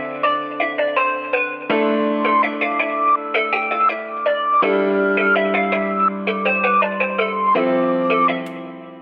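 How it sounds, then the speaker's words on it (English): A trap melody built in FL Studio plays alone, bright plucked synth notes in quick patterns, with sections switching between a reversed effect and the normal sound every few seconds, steady and moderately loud. "So I'm going to be alternating this reverse effect with the normal one"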